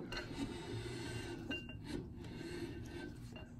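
Brake drum on a Willys MB being spun by hand against adjusted brake shoes, giving a continuous faint rasping scrape with slight clinks throughout.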